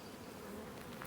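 A swarm of bees makes a continuous soft buzzing hum that stays faint and steady for about a second, with no talk over it.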